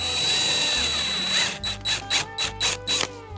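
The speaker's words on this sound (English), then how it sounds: "Drilling pretty good. Just go nice and easy." A power drill whines steadily, then pulses in short bursts as it bites through metal, with a high grinding edge on each burst.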